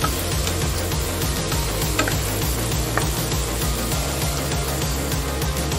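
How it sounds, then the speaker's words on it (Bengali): Pointed gourd (potol) frying in hot oil with turmeric, a steady dense sizzle running close and loud throughout with faint clinks of stirring and no talk. "আর একটু ভেজে নেব"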